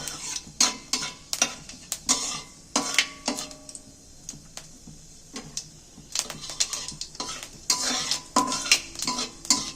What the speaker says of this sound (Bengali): মৌরিটা একটু ভাজা হোক